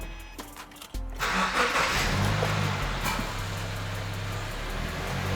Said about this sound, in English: Now we are going to start the vehicle and see what happens.